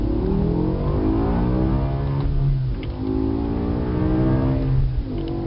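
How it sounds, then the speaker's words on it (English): 2008 BMW M5 with its 7-speed SMG transmission accelerating hard through the gears, a loud, steady engine roar with rising pitch sweeps broken by brief dips at the shift points, heard from close by. "We're going to give you a demo here of the transmission working through the gears, and hear the sound and enjoy."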